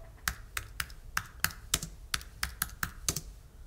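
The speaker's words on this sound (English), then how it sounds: "Oh, I am typing in the right place." Keys clack on a computer keyboard as someone types, giving about a dozen crisp, close keystrokes at a fairly even rhythm with no talking.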